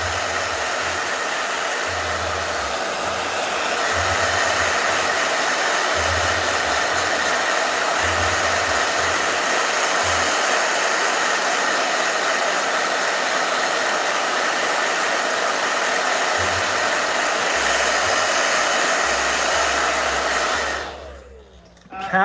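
A hair dryer blows continuously at a steady, loud whir for about twenty seconds, then cuts off abruptly at the end.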